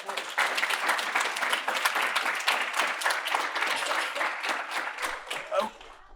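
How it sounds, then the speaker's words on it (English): Sustained applause from an audience at the Inside Dayton program's final presentations, honoring a student group; dense, steady clapping fills the room close by for several seconds before tapering near the end. "Can we get one more round of applause for group"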